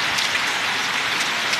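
Heavy rain with thunder and lightning in Bihar, India, pours down steadily in a dense, continuous hiss, close and loud, with no voices.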